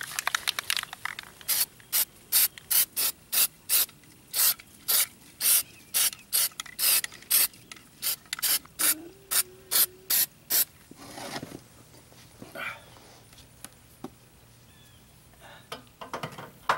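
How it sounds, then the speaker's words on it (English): Rust-Oleum cold galvanizing compound sprayed from an aerosol can onto jon boat trailer springs, in a rapid series of short, even hissing bursts with the can's rattling ball audible, followed by quieter handling noises. "I've got some of this cold galvanizing compound spray that from Rust-Oleum I'm gonna put on there."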